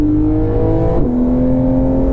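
A Porsche GT3 RS engine held at high revs gives a loud, close, continuous tonal howl, with the pitch dipping briefly around the middle as it shifts, then holding steady again.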